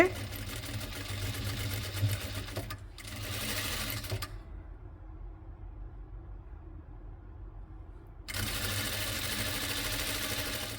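A sewing machine stitches a yoke neck in two close, loud running bursts separated by a pause of quieter room sound.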